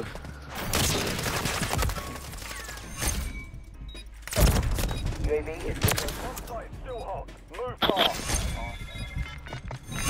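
Gunfire in Call of Duty Modern Warfare 3 cracks out in sharp bursts, with a loud heavy blast near the middle, beneath excited players talking and shouting.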